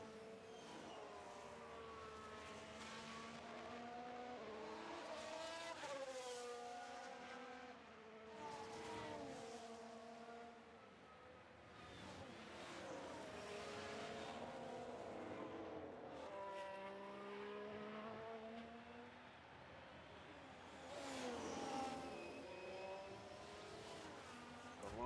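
A Haas Formula 1 race car in a racing video game accelerates and weaves to warm its tyres, its engine note continuously rising and falling through repeated revving sweeps, loud and close throughout.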